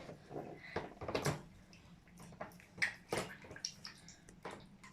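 Water runs and splashes in short, uneven bursts as something is washed by hand. The sound is fairly quiet and close, with no talking.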